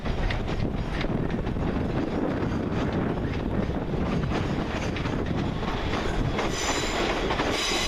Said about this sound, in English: Now leaving will be 390-104, the Alston Pendolino, my baby.